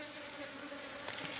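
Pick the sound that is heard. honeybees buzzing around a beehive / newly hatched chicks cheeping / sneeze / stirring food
honeybees buzzing around a beehive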